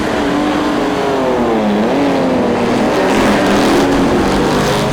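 Racing cars, Jaguar E-types among them, roar away from a standing start at Goodwood for the Stirling Moss Memorial Trophy, a loud, dense blend of engines revving and climbing in pitch together, close and unbroken throughout.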